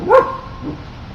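A dog outdoors gives a single short, loud bark up close, followed by quieter background noise.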